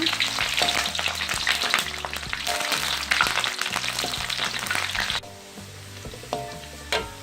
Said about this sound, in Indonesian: Lalu kita goreng bawang merahnya.